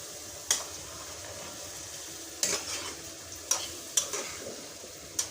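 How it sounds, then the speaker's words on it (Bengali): Marinated chicken stir-fried in a pan for a Bangladeshi mezbani curry, a steady close sizzle broken by about six sharp scrapes of a spatula against the pan, with no voices. "এখন দিয়ে দিচ্ছি সেই ম্যারিনেট করা মাংসটা, এখন সুন্দর করে এটাকে কষিয়ে নিচ্ছি।"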